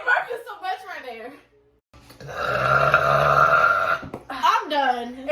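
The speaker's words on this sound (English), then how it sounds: "Why are you burping so much right there?" A girl lets out a long, loud, rumbling burp lasting about two seconds, framed by close-up talking before and after.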